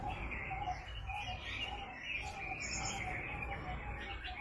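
A busy chorus of chirping parrots and cooing birds fills a fruit-laden guava tree in a garden, calls overlapping continuously, some sharp and close, others softer behind.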